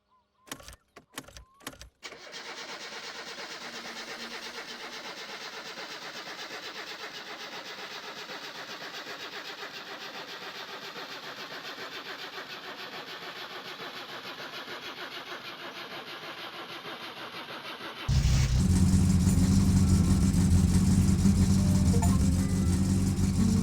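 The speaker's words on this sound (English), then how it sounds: "it was finally time to get this car started" A car in My Summer Car cranks with a few sharp starter bursts, then catches and settles into a steady mid-pitched idle before jumping into a louder, fuller rev near the end, with no talking.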